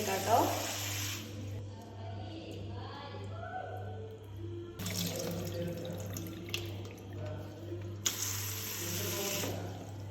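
Running water from a tap gushes in bursts while green grapes are rinsed in a sink, with a steady low hum and a person speaking between.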